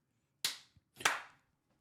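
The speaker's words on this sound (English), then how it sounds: "I completely messed up the clap." Two sharp hand claps, close and distinct, a little over half a second apart, the second slightly ragged as if doubled, alone in near silence.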